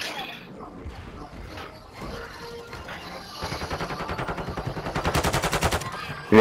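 Rapid automatic gunfire from a Warzone quads match near a gas station, starting as scattered shots and building into loud, fast bursts in the second half while players talk over it.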